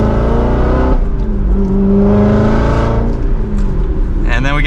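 A Chevrolet Corvette C7 Z06 accelerates hard from second gear, its engine note climbing steadily through the revs, loud and close with someone talking over it.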